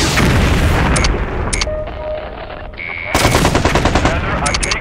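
Battle gunfire in the 2001 game MechCommander 2, with dense rapid machine-gun bursts and booming impacts, a brief lull carrying a tonal electronic hum, then heavy firing again, loud and close.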